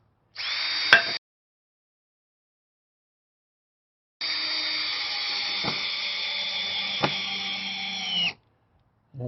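A power drill drives a screw into a Sprinter van in two bursts, a short whir and then a longer steady one, each ending abruptly, close and fairly quiet with silence between.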